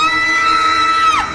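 A woman lets out a single sustained, high-pitched scream of horror as a sound effect, loud and close, holding steady before sliding downward at the end.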